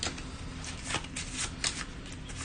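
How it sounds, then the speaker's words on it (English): Board game cards from Arkham Horror third edition being shuffled by hand, a steady papery riffling and rustling that runs through the whole moment with a few sharper bursts, close and alone. "Give it the old shuffle shuffle until I forget where it was at."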